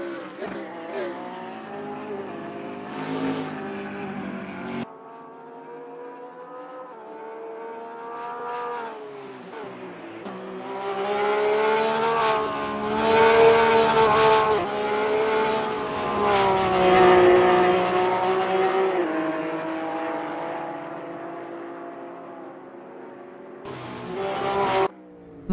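A Porsche 911 GT3R race car at Spa, a loud engine howl rising and falling through gear changes, swelling as it accelerates and fading, with pitch sweeps and brief cuts between upshifts.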